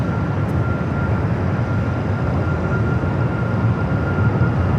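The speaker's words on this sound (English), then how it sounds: "Next takeoff is Alaska, flight 239, heading to SFO, 737 MAX 9." An Alaska Airlines Boeing 737 MAX 9 roars on its takeoff roll at LAX, a loud, steady jet engine rumble that fills the whole moment with no talking.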